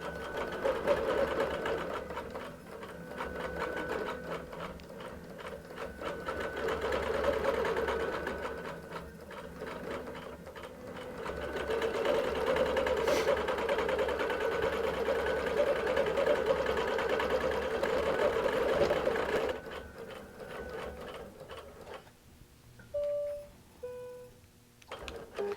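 A QBOT V3 quilting robot drives a sewing machine as it stitches around an appliqué, giving a steady, fast mechanical whir that runs without a break and stays close and loud, then stops near the end, leaving a few short clicks and beeps.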